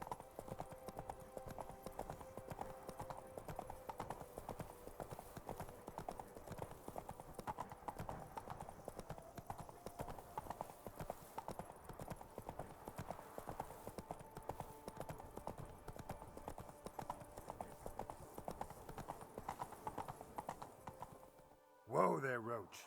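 Hooves of the horse Roach clip-clop at a steady walking rhythm on the ground in the video game Witcher III, continuing evenly before a brief louder burst at the end, with game dialogue around it.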